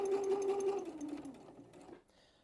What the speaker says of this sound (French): Donc on coud jusqu'à ce que l'aiguille pique dans le trait violet.